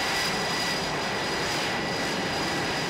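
An F-18 fighter jet engine roars loudly and continuously up close, a dense, steady whine-laden rush that holds level the whole time without speech.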